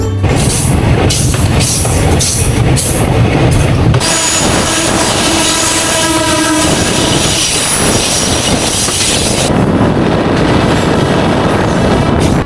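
Shuttle train running between Rajbari and Kushtia in Bangladesh, a loud continuous rumble of wheels on rails with rhythmic clatter and some high squealing, heard up close from on board.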